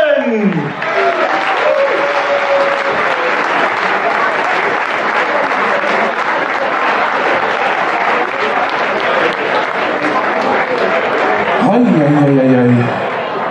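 An audience applauds warmly at a stage show's welcome, a dense, loud, sustained wash of clapping with a few chuckles mixed in; a voice speaks briefly at the very start and again near the end.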